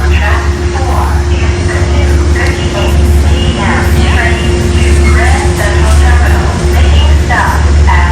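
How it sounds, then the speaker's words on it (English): A train arriving at a station near Croton Point Park, New York, rumbles steadily nearby with a low engine drone and a constant hum, while people talk over it throughout. "And here's our train, I think. Right on time"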